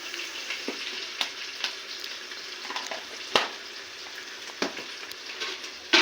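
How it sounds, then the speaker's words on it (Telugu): Ginger garlic paste fries with onions in a chicken curry on a village wood-fired stove, giving a low, steady sizzle punctuated by sharp utensil clicks and knocks every second or so. "ఇప్పుడు అల్లం వెల్లిపాయ పేస్ట్ వేయించుకుందాం"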